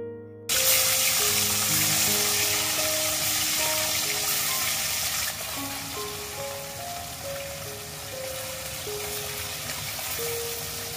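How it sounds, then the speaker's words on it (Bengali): Fish sizzles steadily as it fries in a home kitchen pan, a dense crackling hiss that holds loud and continuous, easing slightly partway through, with a faint melodic tone running underneath. "তো ওদিকে মাছটা ভাজা হচ্ছে"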